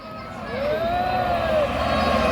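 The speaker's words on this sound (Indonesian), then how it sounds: "Nah, ini ada bus NPM lagi ya," NPM Sultan Class intercity bus rolling past on a Sumatran road, a loud close engine roar with a rising and falling tonal whine as it passes, a voice talking underneath.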